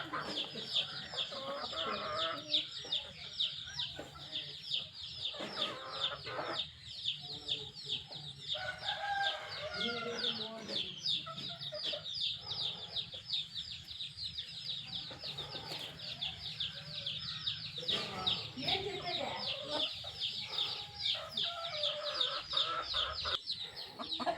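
Kadaknath hens cluck steadily in a busy coop, one laying an egg, a rooster crowing now and then among the dense, continuous chatter of fowl.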